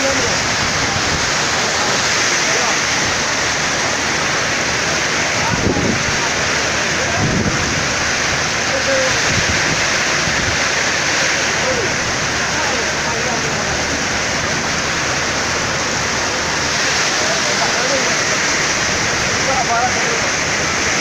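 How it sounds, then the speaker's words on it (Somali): Heavy rain pours steadily in the town of Jowhar, a dense continuous roar of falling water lasting throughout, with a few brief louder thuds and faint voices underneath. "roob xooggan ayaa daa wallah"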